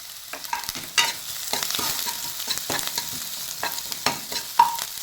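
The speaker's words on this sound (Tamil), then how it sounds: "வெங்காயத்தை சேர்த்து நல்லா இது மாதிரி வதக்கிக்கலாம்" Chopped onions and green chillies sizzle in a hot pan while a utensil stirs and scrapes them, with steady frying crackle and occasional sharper clicks.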